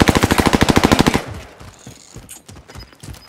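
Rapid automatic gunfire in a military shooter video game, a fast steady burst of loud shots for just over a second, then scattered quieter impacts and distant pops trailing off.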